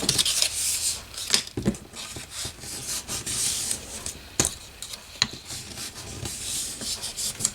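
Paper file folder sides being folded and creased by hand, with soft rubbing, crinkling and sharp pressing scrapes in an irregular rhythm, close and fairly loud, no talking.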